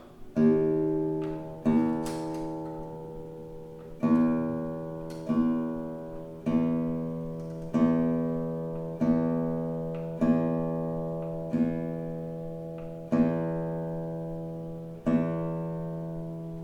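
A single guitar string is plucked about eight times while being tuned up to E, each note ringing and fading before the next, its pitch shifting slightly between plucks.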